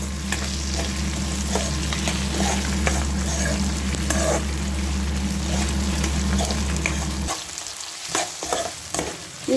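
Vangi bath ingredients fry in oil in a pan with a steady, close sizzle and occasional stirring scrapes, the low hum dropping away near the end as the sizzle thins out.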